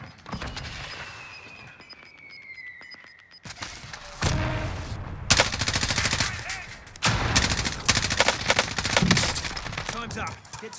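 Gunfire in the Warzone video game, rapid bursts of automatic fire and loud cracking shots that grow heavier and denser, with short quieter gaps between volleys.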